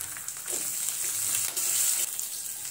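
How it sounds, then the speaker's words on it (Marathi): Cumin seeds crackle and sizzle steadily in hot oil with green chillies for a peanut and potato dish, a dense, close frying hiss with scattered small pops and no talk. "इथे बघा जिरं तडतडलेलं आहे"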